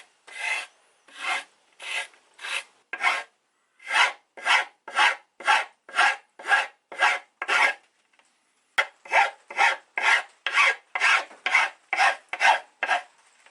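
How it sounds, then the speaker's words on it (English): A hand file rasps along the carbon fiber edge of a skateboard deck in steady, evenly spaced strokes, about two per second, with a short pause midway before the strokes resume; close and alone, no voices. "Some people use file just to get that perfect edge."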